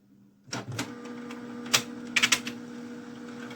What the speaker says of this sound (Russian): И сейчас у нас будет напечатанный вот этот вот пробный листочек